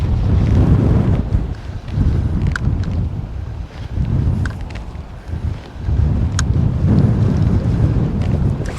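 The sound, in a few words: strong wind on a sea cliff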